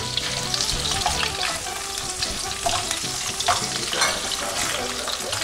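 Calabresa sausage frying with vegetables in fat, producing a loud, dense, continuous sizzle with occasional stirring clatter close by throughout.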